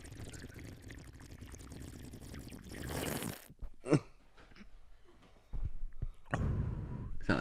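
Tequila poured from a bottle into a glass, a gurgling pour that builds over a few seconds, then stops abruptly; later a short sharp burst and further splashy noise follow, close by and fairly loud.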